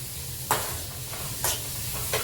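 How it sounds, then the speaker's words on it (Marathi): Onion sautés over a high flame in a pan with a steady sizzle and frying hiss, broken by three brief stirring scrapes, close and continuous. "आपल्याला मोठ्या गॅसवरतीच आपला कांदा चांगला परतून घ्यायचा."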